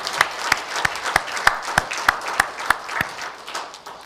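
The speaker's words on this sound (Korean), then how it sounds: "하나님께 박수 영광 돌립니다." A church congregation applauds during a Sunday worship service, with steady rhythmic clapping in unison, moderately loud and fairly close.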